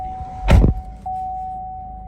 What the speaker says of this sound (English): Close the door so you can hear that beep.